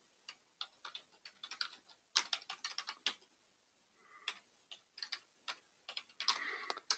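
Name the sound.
typing a password on a computer keyboard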